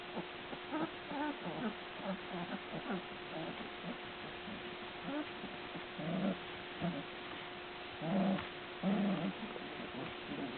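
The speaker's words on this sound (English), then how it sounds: "there's some kind of dog fight going on now." Puppies wrestling and tussling in a playful dog fight, giving off short bursts of growls and yelps at moderate distance over a steady background hum.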